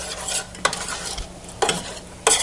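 Spaghetti sauce cooks in a pan and is stirred with a few scraping strokes that come in short bursts over a soft, steady sizzle.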